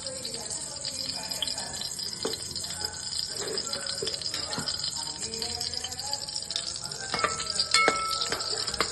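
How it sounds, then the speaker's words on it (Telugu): Mustard and cumin seeds crackle in hot oil for a sweet potato dish, a quiet sizzle with scattered sharp pops and some utensil clatter near the end, no talking. "కొంచెం చిటపట అంటే చాలు."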